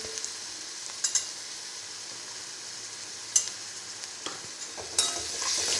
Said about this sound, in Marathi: आता याच्यात लसूण जिरे पेस्ट टाकून घेऊया